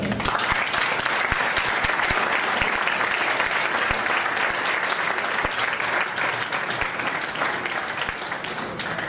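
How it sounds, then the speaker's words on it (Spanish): A crowd at a trade union conference claps steadily for several seconds, dense and even applause filling the room without voices. "pediros un aplauso para los compañeros que van a presentar"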